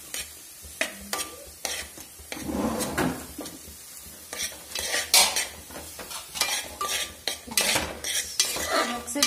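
Tomato rice is stirred in a pot with a metal spoon: irregular scraping and clinking strokes against the pot, close and fairly loud, with a faint sizzle between them and no talking.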